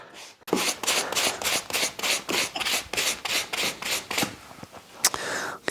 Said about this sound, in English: this one needs a bit more work on the blade and the things, just to get that rust off